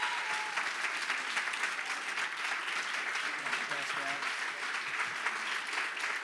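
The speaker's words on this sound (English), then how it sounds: "So y'all give it up for Pastor Prophet Lloyd Bustard." A church congregation breaks into sustained applause for a visiting pastor, dense steady clapping that fills the room from start to finish, with cheering voices mixed in.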